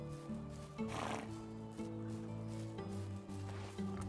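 Young horses on a farm in the game Medieval Dynasty give a loud snorting whinny near the start and a softer one at the end, heard over continuous game music at close range with no talk.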